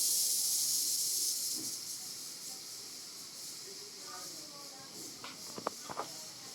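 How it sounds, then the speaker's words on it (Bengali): Steady sizzling hiss of beans frying in a pan, strongest at first and then easing, with a faint voice and a few clinks near the end. "দেখো বিনসগুলো এখানে ভাজা হচ্ছে, সুন্দরভাবে ভেজে নিতে হবে।"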